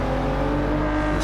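A Ford race car in Gran Turismo 7 at Daytona, its engine droning loud and steady at high revs, close up and continuous with no talk.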